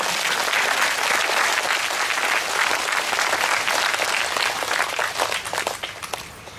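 Loud, dense applause from an audience at a meditation gathering, sustained clapping that thins slightly toward the end.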